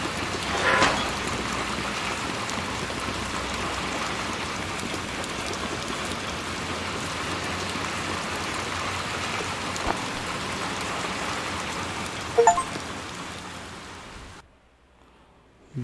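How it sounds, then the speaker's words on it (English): Steady rain in the video game Little Nightmares 2, a dense hiss of falling water that holds at an even level throughout with a few faint knocks, then drops away abruptly at the end. "It's still raining."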